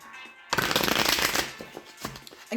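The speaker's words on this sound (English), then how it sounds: "One more shuffle of the tarot and see what we got here." Tarot cards being shuffled, a loud, dense riffling burst that starts abruptly and runs for about a second, then trails off into a few softer card flicks and taps, close by with no talking.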